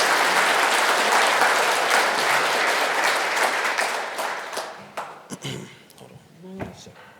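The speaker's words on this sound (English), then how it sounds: "Let's give them one big round of applause." Applause from a conference audience at an annual dealer event fills the room loudly for about four seconds, then thins to scattered claps and fades as a few voices come through.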